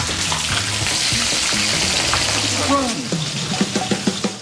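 Artichokes, zucchini and potatoes in a light carbonated batter fry in hot oil with a steady, loud crackling sizzle throughout, while a voice talks over it and tapers off toward the end.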